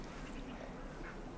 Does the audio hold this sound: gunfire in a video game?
no